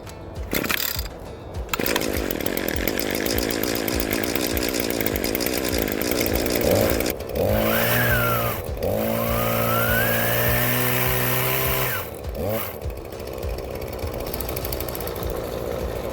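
An Echo PPT2620H gas pole saw's small two-stroke engine buzzes loudly up close, holding a high idle, briefly revving higher with a rising whine, then settling back into a steady drone.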